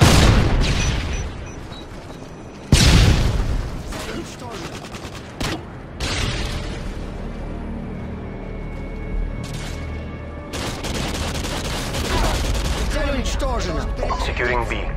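Predator missile strikes and gunfire in a Call of Duty multiplayer match: heavy booms and bursts of shooting, one loud blast near the start, with announcer-style voice lines between explosions.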